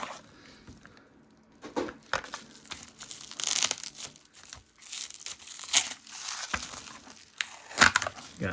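Plastic and cardboard packaging from a Hot Wheels mail delivery is crinkled, torn and handled at close range, in irregular bursts of rustling and tearing with short quieter pauses.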